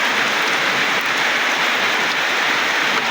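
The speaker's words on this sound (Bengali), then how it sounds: "কি বৃষ্টি দিতেছে দেখেন" Heavy rain falls in Sylhet during flooding, a dense, continuous roar of drops on surfaces that stays loud and even throughout, with no voices.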